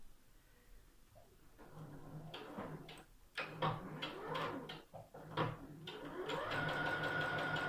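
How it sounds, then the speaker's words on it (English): A sewing machine runs in short, stop-start bursts while back stitching a seam, its rapid mechanical rattle rising and falling between pauses, close and with no talk. "Just sew over it. Back stitch."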